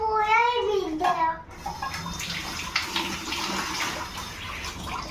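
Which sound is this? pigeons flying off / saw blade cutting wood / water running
water running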